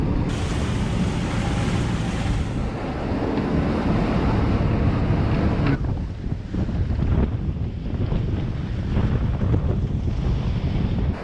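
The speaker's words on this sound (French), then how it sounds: "Ça souffle fort." Strong wind roars steadily over a sailboat at sea around 22 knots, with rushing gusts and wave noise buffeting close and loud, unbroken by speech.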